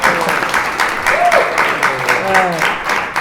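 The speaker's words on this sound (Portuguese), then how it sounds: "Aplausos para Marcos Castro e Ed Gama aqui no Diário Semanal." Studio audience applauding guests on a Brazilian talk show, a steady wash of clapping with a voice speaking over it throughout.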